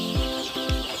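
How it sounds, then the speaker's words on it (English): Lohmann Brown layer chickens being brooded on a poultry farm cluck twice in quick succession, close and clear with a faint background hum. "These are Lomen Brown, are layer chickens that we are brooding."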